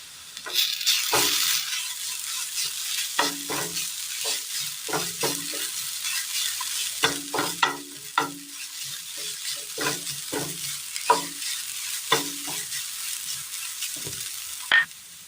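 Onion and grated coconut being stirred in a hot pan, with a steady sizzle of frying under repeated scraping strokes of a spoon, fairly close and moderately loud with no talking.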